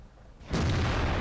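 A Jagdpanther II tank destroyer's cannon fires in World of Tanks, one loud sudden boom that bursts in after a quiet moment and rolls on as a broad, heavy roar.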